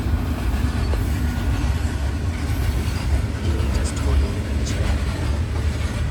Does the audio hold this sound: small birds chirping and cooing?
no